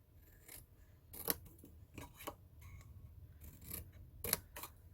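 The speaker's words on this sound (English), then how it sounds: "now I'm going to go to the opposite side again and trim each side in a little bit" Scissors trim the sides of a decorative paper box: a series of crisp, close snips and rustling cuts at an uneven rhythm, quiet and unaccompanied by speech.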